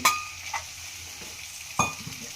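Fried eggs stirred into Maggi noodles over high flame, two clinking scrapes of a utensil against the pan over a low, steady sizzle.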